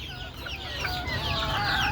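Chickens cluck close by in a busy farm setting, a dense overlapping chorus of short calls over steady background noise with no speech.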